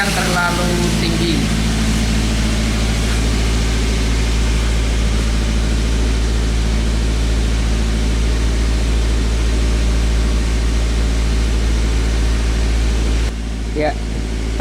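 An EFI car engine idles too high at 1200 rpm, giving a loud, steady low hum with a constant drone that holds unchanged throughout, and speech sits faintly at the start.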